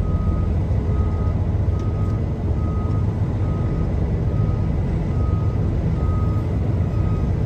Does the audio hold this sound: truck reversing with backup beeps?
yes